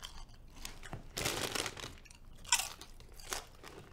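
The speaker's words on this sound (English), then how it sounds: "I couldn't hear you past the crunch of these bomb-ass chips." Close, loud crunching and chewing of potato chips, with repeated crisp bites and crackles in an irregular rhythm and no talk.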